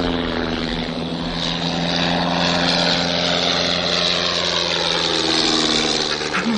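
A pilotless propeller aeroplane flying near a manor, a loud, steady droning engine roar that holds throughout with a slight rising whine near the end.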